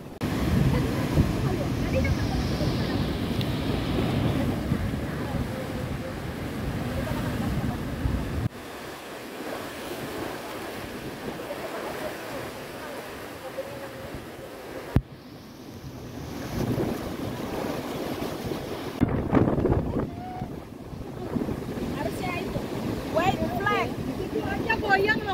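Strong wind gusts and breaking waves roll in at a shore, with heavy buffeting wind noise on the microphone, surging surf and voices talking intermittently over the roar.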